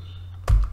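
Keys on a computer keyboard struck while a web address is typed, a brief close burst of a couple of clicks near the end of a short moment of quiet.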